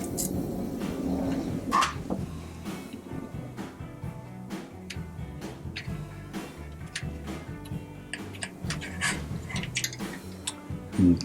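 A screwdriver works the screws holding the manifold on a DJI Matrice drone, making close, small irregular clicks and ratcheting ticks over faint background noise.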